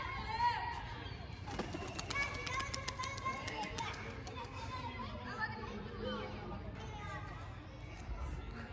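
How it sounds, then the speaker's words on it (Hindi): Pigeons take off and fly up from a rooftop loft, with fluttering wings and bird calls mixed into a busy outdoor scene where children play and people chatter. "ये उड़ रहे कबूतर"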